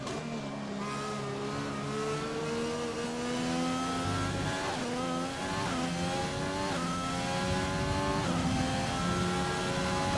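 A race car engine in a racing video game revs hard through the gears, its pitch climbing in repeated sweeps and dropping at each shift, loud and continuous for several seconds with no talk over it.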